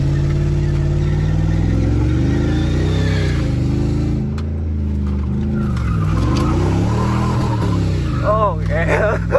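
A $1,200 beater car daily driven for four years, doing a burnout in Mexico: a loud, close engine revs and surges up and down over a constant droning roar, with a brief squeal near the end.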